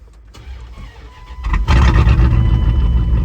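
A high-horsepower car engine fitted with a new fuel pressure regulator cranks briefly, then fires on the first try and settles into a loud, steady rumbling idle close by.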